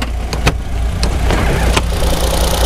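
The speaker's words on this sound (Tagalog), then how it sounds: "So start natin yung ating makina. So yan, mandar na. Yan, ganda ng andar, tahimik." A 12-valve all-aluminum R06A three-cylinder engine in a 4WD mini van idles close by with a steady low rumble, broken by a few sharp clicks and knocks.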